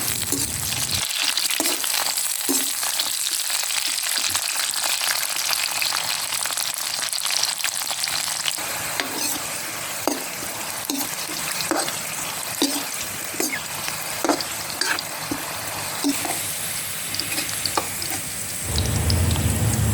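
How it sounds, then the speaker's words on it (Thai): Pekaa, the Indian trumpet vegetable, fries in hot oil to turn crisp and golden: a loud, dense, continuous sizzle with scattered crackles and pops throughout, no talking. "ผักพีกาครับ ไปทอดกับน้ำน้ำมันก่อนครับ ทอดให้เหลืองให้กรอบก่อนครับพี่น้องครับ"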